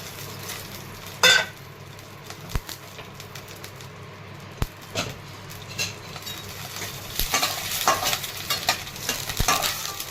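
Raisins and charoli nuts sautéing in ghee in a pan for mango sheera, a steady close sizzle with scraping stirs and occasional sharp clinks of a spoon on the pan, with no voice.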